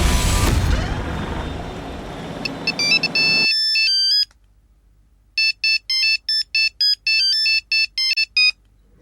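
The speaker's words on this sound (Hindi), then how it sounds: "अच्छा आप चिंता मत करिए, हम फोन करके देखते हैं उसको।" A phone ringtone plays as a repeating electronic melody of bright beeping tones in short regular bursts, following a loud burst of noise at the start.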